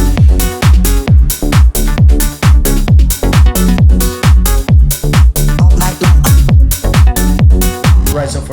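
A house music track built from the Odd Frequency Spin sample pack, with a steady four-on-the-floor kick, punchy bassline and bright hats playing loud and continuous throughout.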